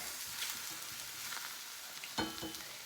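An egg sizzles in a hot skillet, a soft, steady frying crackle close by with a few louder pops and a brief scrape near the end, no voices.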